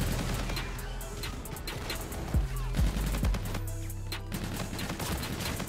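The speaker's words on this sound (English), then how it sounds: "It's all down to the crispness of the shot." Rapid bursts of SMG fire from the MV4 in the shooter video game Call of Duty: Infinite Warfare crackle in quick succession over in-game ambience and effects, fairly loud and continuous across the few seconds.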